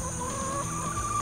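Newly arrived laying hens on a homestead cluck steadily at close range, a continuous, fairly loud flock murmur with a sustained tonal call running through it.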